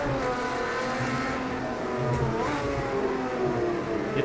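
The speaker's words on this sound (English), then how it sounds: "The John Wyer Porsche just pulls away a little bit" A John Wyer Porsche race car engine revs and drones steadily at high rpm in Project CARS 2 during a Spirit of Le Mans race, loud and continuous with rising and falling pitch as it accelerates.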